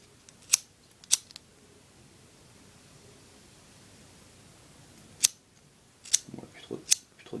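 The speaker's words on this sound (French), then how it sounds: "vous prenez votre briquet ou vos allumettes" Lighter struck several times to light a candle made from an orange, a series of sharp isolated clicks and flicks spaced apart over quiet room tone, with a soft rustle near the end.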